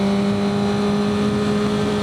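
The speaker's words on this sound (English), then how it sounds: "It's not dropping the speed. It's not doing as much engine braking." Suzuki GSX-R600 motorcycle with a 520 chain conversion, engine droning steadily as it decelerates under light engine braking, a close, loud continuous tone with no talk.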